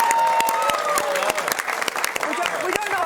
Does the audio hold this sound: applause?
yes